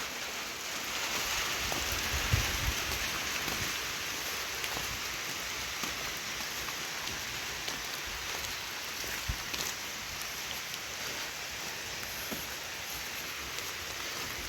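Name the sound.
rain falling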